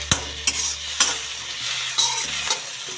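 Curry leaves and coriander fry in a pan with a steady hissing sizzle, punctuated by several light clinks of a spoon stirring, close and without speech.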